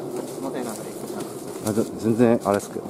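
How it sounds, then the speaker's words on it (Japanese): Pigeons or doves coo repeatedly from trees close by during an outdoor insect-collecting outing, the rhythmic calls rising in bursts while people talk over them. "鳥がうるさいな。"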